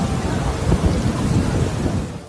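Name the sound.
heavy rain and thunder at the plain of Arafat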